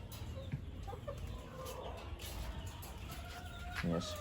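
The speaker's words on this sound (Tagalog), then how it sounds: "mga SBR na inahin." Hens of the SBR breed cluck softly on a game farm, a few short calls scattered over steady low background noise, with one louder burst of clucking near the end.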